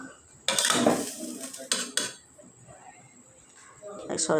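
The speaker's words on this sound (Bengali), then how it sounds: "এখন আমি ভালো মতো নাড়াচাড়া করে ঢাকে রাখবো" A metal spoon clatters and scrapes inside a pot of aair fish curry with drumsticks and potato, in a few loud close bursts separated by quieter gaps.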